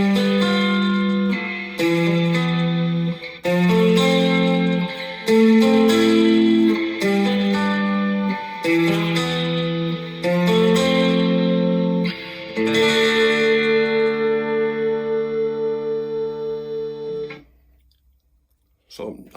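A Squier Mustang electric guitar on a clean setting with light compression and reverb plays a sequence of close, ringing picked notes and chords, ending on a long sustained chord that decays into silence.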